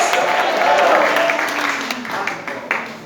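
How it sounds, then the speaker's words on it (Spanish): A church congregation applauds during a sermon, a loud, dense burst of clapping with a few sharper claps, while a voice rings out over it. "Dale un aplauso más fuerte, más fuerte."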